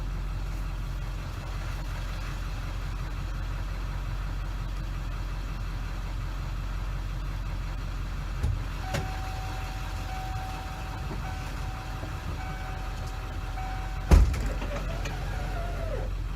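A converted shuttle bus RV heads out on a shakedown camping trip, its engine a steady low drone throughout with a faint rising whine midway and a brief thump near the end, with no talking.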